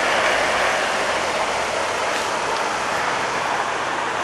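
An Accucraft Gauge 1 Black 5 model steam locomotive runs steadily around a garden circuit, giving a continuous, fairly loud rushing and rumbling with no distinct beats, alone without talk.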